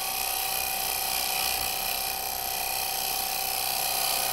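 A TurnMaster cutter shear-scrapes wood on a spinning lathe, producing a steady, even whirring hiss with a constant high whine and no pauses.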